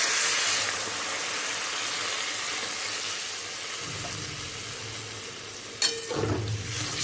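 Two cups of water go into a pot holding one cup of Gobindobhog rice for Bengali muri ghonto, a steady broadband wash of pouring and sloshing lasting several seconds, with a sharper splash or clatter near the end.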